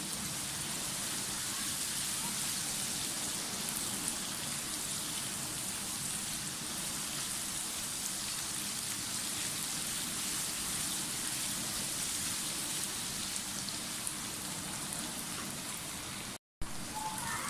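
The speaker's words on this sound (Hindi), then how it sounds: "प्याज हमारा फ्राई हो रहा है" Onions fry in a pan for Kashmiri mutton qeema, giving a dense, even hiss of sizzling that holds steady throughout, broken only by a brief dropout near the end.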